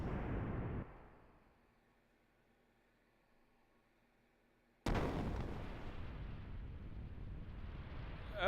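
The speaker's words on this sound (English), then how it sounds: "it seems as if a gun blast has made a hole in" Booming ship-gun blasts in the Xenogears video game: a heavy rumbling roar that cuts off and decays into near silence, then a second sudden blast with a long noisy rumble.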